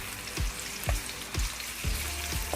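Native garlic frying in a pan for Ilocano-style pakbet and adobo gives a steady sizzle, with regular scrape-like stirring strokes about every half second, close and quiet, with no talking.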